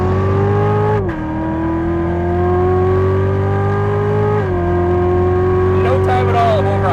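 A 2015 Chevrolet Corvette Z06 accelerates hard in a straight line, its loud engine note climbing steadily through the gears with brief dips at each upshift, heard close from inside the car.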